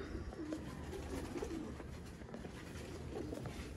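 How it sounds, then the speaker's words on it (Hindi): Pure chapde pigeons, a Sialkoti breed, cooing softly and steadily at close range, with low throaty calls repeating over a dense bed of rustling and ambient noise and no speech. "देखें जी प्योर चपड़े कबूतर।"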